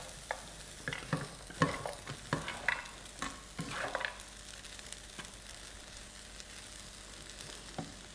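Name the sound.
pineapple fried rice with cashew nuts frying in a pan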